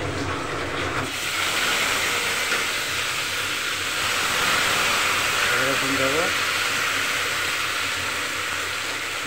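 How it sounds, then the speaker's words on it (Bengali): Cumin seeds and bay leaf sizzle in hot oil, a steady loud hiss that fills the whole stretch, with a brief voice breaking in over it partway through. "তেল গরম করলাম, তেলের ভিতরে জিরা দিলাম, একটু তেজপাতা দিলাম"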